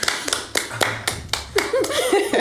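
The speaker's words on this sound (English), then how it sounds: "give yourself an round of applause" A handful of scattered, uneven claps from a small audience at a comedy-style show about single life, with a brief laugh or murmur rising near the end.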